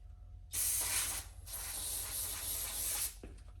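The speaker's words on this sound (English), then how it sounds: "So you want to spray it onto the rag far away from it and make sure you're not dripping any." A steady aerosol hiss of brake and parts cleaner sprayed onto a rag, about two and a half seconds, close and fairly loud, then cuts off with a faint click.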